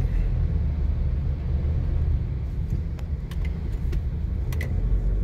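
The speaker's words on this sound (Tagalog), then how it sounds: "So bali traffic naman ipapakita ko sa inyo mga ka-drive." Steady low rumble of slow, heavy road traffic on EDSA in Manila heard from inside a car, a constant muffled engine and tyre drone with a few faint clicks and rattles in the cabin, no talk.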